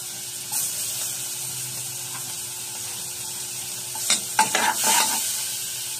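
Garlic goes into a pan with melted margarine for a chicken curry, giving a low steady sizzle, then a cluster of scraping, clattering stirs near the end.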